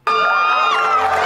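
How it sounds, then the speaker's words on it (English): A small crowd of wedding guests in a movie scene bursts into loud whooping and cheering, a short, sudden eruption of excited shouts. "they clapping like they in a stadium or something"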